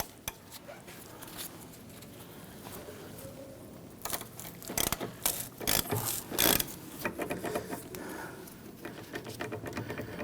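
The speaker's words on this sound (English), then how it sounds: "We need to use that to go ahead and remove that bolt." Bolt being worked loose with a number 7 Allen key on the rear backing plate of a 1999-2004 Jeep Grand Cherokee, giving irregular metallic ratcheting clicks and scrapes that grow louder and busier in the second half, with no talk.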